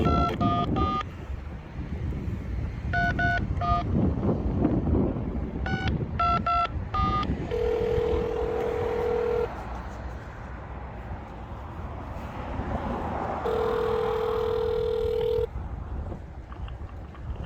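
A series of telephone keypad tones in quick bursts, followed by two long steady ringback tones, all over a low windy background hiss.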